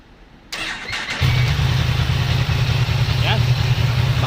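Yamaha MT-10 motorcycle engine cranks and fires at about one second, then settles into a steady, loud, rumbling idle that holds to the end, close by with no talk.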